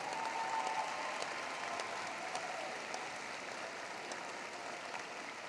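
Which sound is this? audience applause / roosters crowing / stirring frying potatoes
audience applause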